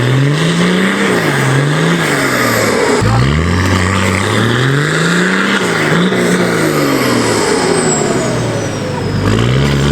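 A Nissan Patrol with a turbocharged TD42 diesel engine pulls hard in third gear, its loud, close engine note rising and falling through repeated surges of acceleration, with a faint turbo whistle over the drone.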